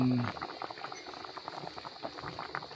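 Coconut milk simmering with tilapia in a pot gives a steady, close bubbling and popping, with a brief low hum at the start.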